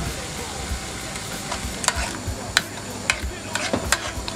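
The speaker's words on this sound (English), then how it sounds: "I'm just going to get some of this kale and slap that in there and let that cook now for a piece" Kale frying in a pan: a continuous hiss of sizzling broken by sharp clicks and scrapes of stirring, with a little talking under it.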